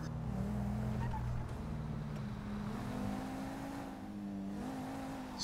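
A car cruises along a motorway in GTA V, its engine a steady low hum with mild pitch changes, moderately loud and continuous with no talk over it.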